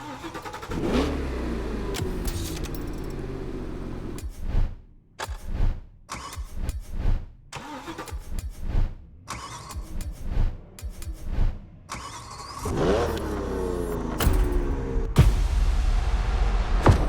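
Car engines in The Crew Motorfest racing game starting up and revving hard, repeated surging roars with short gaps between them, loud and close, with no talk over them.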